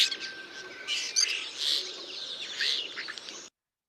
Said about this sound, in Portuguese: Este som que se ouviu agora parece a imitação do chamamento do búzio.